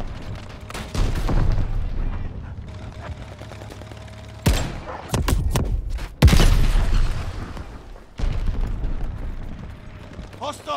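Gunfire and a grenade explosion in the Call of Duty Vanguard shooter game, with sharp shots, a heavy boom and loud bursts of fire at close range over battlefield noise.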